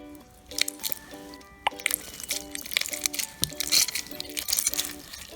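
Old slimes taken from the fridge are mixed together by hand with added liquid, producing close, wet squishing and sticky popping sounds in an irregular rhythm.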